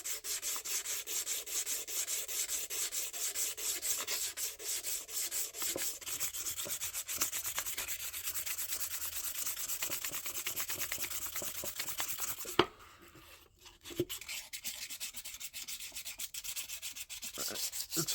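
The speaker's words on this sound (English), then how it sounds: "Now I'm going to, probably hand sand a little bit." A ball peen hammer being hand sanded with 400 grit sandpaper: steady, continuous rubbing strokes for about twelve seconds, then a brief pause with a sharp knock before the scraping resumes, close and moderately loud.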